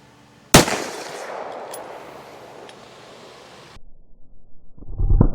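A Smith & Wesson M&P .22 Magnum fires at the range: one sharp, loud crack with a long ringing, fading tail, followed near the end by another burst of louder noise.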